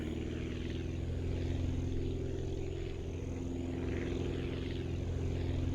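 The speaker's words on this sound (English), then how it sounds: "Kind of a steep climb here, coming straight off the runway. But the plane seems fairly stable." A propeller airplane's engine drones steadily as it takes off from a runway and climbs steeply in the video game Aviassembly, a continuous loud buzzing hum with no voices.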